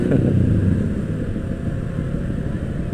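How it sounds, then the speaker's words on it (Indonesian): Loud, steady engine rumble from a motorcycle ridden at night in Jakarta, close and continuous throughout with no talk. "suara motor kenceng banget"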